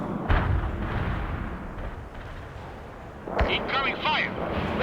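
Incoming artillery fire in the World in Conflict video game: a sharp booming impact near the start, then rumbling battle noise and a second burst, with voices shouting over the combat.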